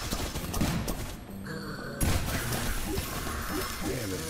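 Enemies blowing up in the action RPG Nobody Saves The World, a flurry of crashing, thudding blasts layered over busy game music, with a sharper burst around the midpoint.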